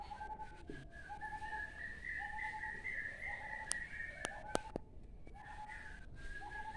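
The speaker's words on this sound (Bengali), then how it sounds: "কি সুন্দর পাখির ডাক" Whistling bird calls repeat in short phrases over a quiet village morning background, with a few sharp clicks; fairly faint and distant.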